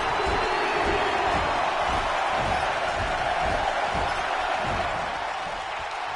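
A wrestling arena crowd cheers in WWE 2K19, giving a continuous broad roar with rhythmic thumps underneath that fades slightly near the end.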